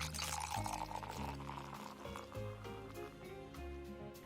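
Ginger beer poured into a glass over ice for a mixed drink, a steady close pour with fizzing and splashing running the full length, with small clinks along the way.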